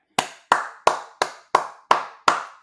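Seven sharp hand claps ring out at an even, deliberate pace, each one crisp and close with a short decaying tail and silence between.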